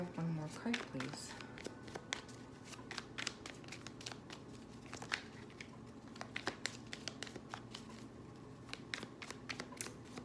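Tarot cards are shuffled and drawn in a quiet room, giving a soft, continuous riffle of crisp card slaps and flicks that runs under a person talking throughout.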